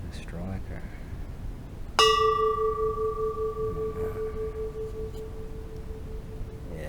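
An antique Japanese bell is struck once with a striker, giving a sharp attack and a long, clear ringing tone that fades slowly with a gentle pulsing beat. Faint talk is heard before the strike.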